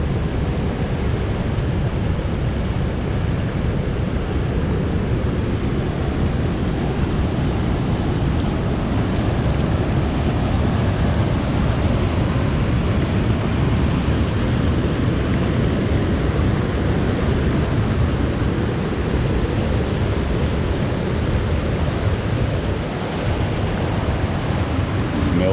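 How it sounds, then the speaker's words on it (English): Heavy water rushes down a waterfall after 100 mm of rain, a dense, continuous low roar that stays loud and unbroken throughout with no voices. "there's quite a bit of water coming down there at Pepsi"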